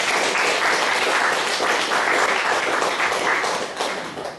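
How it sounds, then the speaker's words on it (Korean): A congregation at a Sunday church service breaks into loud, sustained applause that fills the room and fades slightly near the end. "다시 한번 힘찬 박수로 두 분을 드립니다."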